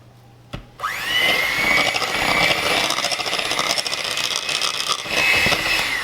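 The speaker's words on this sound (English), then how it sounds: "I'm just gonna whisk together." Heavy whipping cream and powdered sugar are beaten with a whisk, heard as a steady, loud motorized whirring that starts abruptly after a short click and runs continuously without speech.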